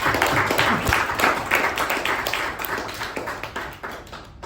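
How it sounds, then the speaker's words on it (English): A round of applause from the audience at a club meeting: many hands clapping close and loud, with sharp individual claps standing out, gradually thinning and fading toward the end. "A big round of applause to support that."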